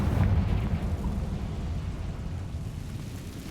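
A Confringo blasting spell goes off in Hogwarts Legacy, a low rumbling explosion that swells at once and then rolls away into a fading roar, heard alone.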